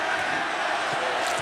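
A roaring wrestling crowd at AEW Royal Rampage, a two-ring battle royal, fills the air with steady, dense cheering and shouting that stays loud throughout with no clear breaks.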